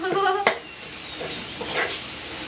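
Curry paste stir-frying on low heat, with a soft, steady sizzle and a couple of brief scrapes or clinks from stirring. A voice is heard faintly at the very start.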